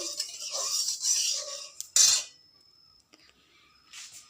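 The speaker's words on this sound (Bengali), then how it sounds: "তো বন্ধুরা দেখো তিল ভাজা শুরু করেছি।" Sesame seeds dry-roast in a pan, stirred with a gritty, rattling scrape that swells in a couple of close bursts before fading to a quieter scratch.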